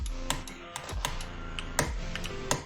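Rapid, sharp clicks from playing the rhythm platformer Geometry Dash, loud and close, falling irregularly over steady in-game electronic music.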